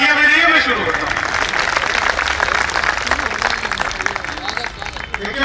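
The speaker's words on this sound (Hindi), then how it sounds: "एक बार तालियां बजाइए" Audience applause at a Hindi hasya kavi sammelan, a comic poetry gathering, steady and dense clapping from a crowd that runs the full length and stays loud, with some voices mixed in.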